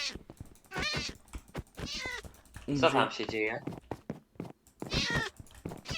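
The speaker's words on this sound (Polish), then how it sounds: "Kotek." Cat meowing in the video game Minecraft, a few short mews mid-clip while someone talks over the game in Polish before and after.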